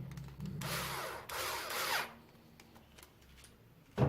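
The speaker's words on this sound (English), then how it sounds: "we'll just put this lock nut on there to secure it" Tools working on an M3 lock nut fitted to an RC bumper brace on an Arrma Kraton V3 2018 with a T-Bone Racing XV4 2.0 front bumper. Two short whirring bursts of close, moderately loud tool noise come first, then a sharp knock.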